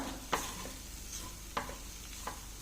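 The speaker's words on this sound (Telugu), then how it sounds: "ఒక ఐదారు నిమిషాలు వేయించుకుంటే సరిపోతుంది" Grated sweet potato frying in a pan over a medium flame sizzles steadily, while three sharp scraping strokes of a spoon stir through it up close.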